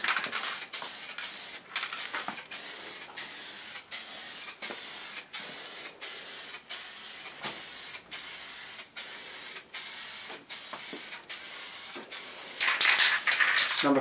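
Spray paint can blasted to clear its nozzle between coats, a series of short, sharp aerosol hisses in quick repeated bursts close to the microphone, with faint voices near the end.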